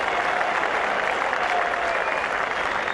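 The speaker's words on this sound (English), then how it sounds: "And warm applause from this large crowd here at Headingley" Warm, steady applause from a large cricket crowd at Headingley during a 1999 World Cup match between Australia and South Africa, dense and continuous throughout.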